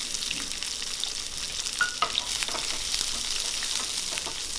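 Chopped shallots sizzle and crackle steadily in hot oil for spicy mutton fry, with occasional stirring clinks and pops throughout.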